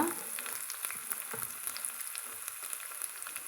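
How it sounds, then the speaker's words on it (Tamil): Steady, bright sizzling of thinly sliced shallots frying in hot oil for chutney, a continuous crackle with small pops throughout, close by and with no talking. "பொடுசாக சின்ன வெங்காயம் வந்து இந்த மாதிரி மெலிசாக புதுசாக நறுக்கி வச்சுக்கிறோங்க அதையும் சேர்த்துக்கலாங்க"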